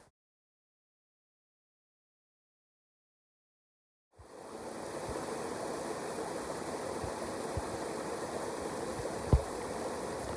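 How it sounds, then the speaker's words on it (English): A mountain brook with waterfalls rushes steadily along a hiking trail, a constant broad wash of flowing water that starts abruptly after about four seconds of silence, with a few faint thumps. "We're walking along that Eliza Brook, and I think we'll see a number of waterfalls today for sure."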